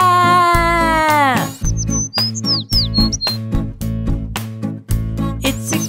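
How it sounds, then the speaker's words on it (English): Short, high cartoon-style bird chirps pop out in quick bursts over bouncy children's song music with a steady beat. "It's a cute little bird."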